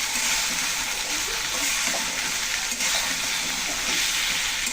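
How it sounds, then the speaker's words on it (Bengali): Pumpkin greens sautéing in a pan with ginger paste, cumin paste, turmeric and salt, giving a steady, dense sizzle and hiss at close range with faint stirring underneath and no talking. "জিরা বাটা, হলুদ, কিছু পরিমাণ মতো লবণ, সব কিছু দিয়ে একটু কষিয়ে নেব।"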